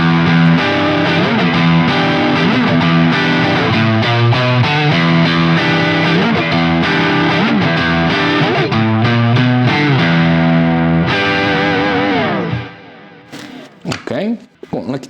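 A PRS Custom 24 SE semi-hollow guitar on its single coil pickup plays dense, loud, distorted chords and riffs with a chorus-like shimmer for about twelve seconds, then fades into a few sparse, quieter plucks.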